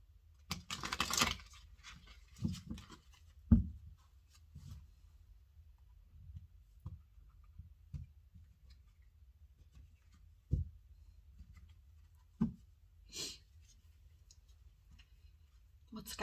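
Soft intermittent clicks and light shuffling taps of tarot cards being handled, with scattered louder snaps in a quiet room.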